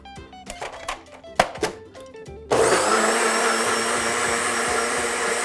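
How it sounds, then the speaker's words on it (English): A NutriBullet blender blending a liquid mignonette, with a few clattering knocks and thuds first, then the motor starting to a loud, steady high whir that holds to the end. "Throw it in a NutriBullet,"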